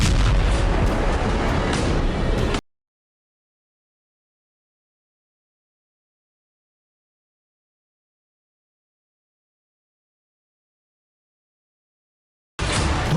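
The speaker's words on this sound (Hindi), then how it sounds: "काउंटडाउन पूरा होते ही एक जोरदार धमाका होता है" A FAB-500 bomb explodes in a loud, dense burst lasting a couple of seconds, followed by long silence, then another roaring burst at the end.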